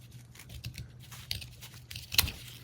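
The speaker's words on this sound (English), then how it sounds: "So what I'm going to do is I'm going to cut it to about right here." A yarn tassel being trimmed with scissors, a few soft close snips and rustles of fibre ending in one sharper cut.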